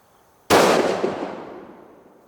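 A single sharp rifle shot from a Howa 1500 chambered in 6mm Creedmoor cracks loud and close out of quiet, then rolls off in a long fading echo across the range.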